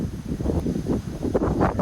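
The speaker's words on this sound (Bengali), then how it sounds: "বাতাস বইতেছে" Wind buffets the microphone at Nodalia beach after rain, a continuous low rumbling gusty roar for under two seconds with no voices.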